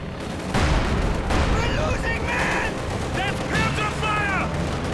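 Company of Heroes 2 battle noise, with rattling gunfire and heavy tank-gun blasts as a Panzer IV comes under fire from T-34s with 85mm guns. Dense, continuous bursts sit over a steady rumble, with short tonal whines mixed in.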